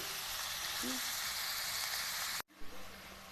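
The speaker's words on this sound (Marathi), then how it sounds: "कडळ ठेवून सरसोचं तेल गरम झालं त्यात कांदा हिरवी मिरची लसण टाकून घेतलेली" Onion, green chilli and garlic fry in hot mustard oil in a kadhai, a close, steady sizzle that cuts off abruptly, then a softer sizzle resumes.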